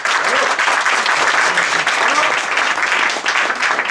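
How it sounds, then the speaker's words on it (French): Dense, steady applause from an audience fills the room at a restaurant award ceremony in Paris, continuous and fairly loud from start to finish with no break. "On peut l'applaudir, Paul Loup, c'est un ami."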